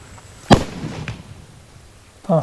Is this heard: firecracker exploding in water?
yes